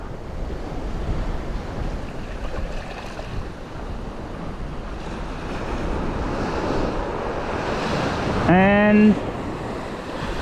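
Blustery wind and crashing surf on a beach at Sandy Cape, a steady roar rising and falling, with a brief voice near the start and a short chirping bird call near the end.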